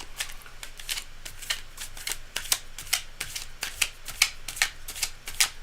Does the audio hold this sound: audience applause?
no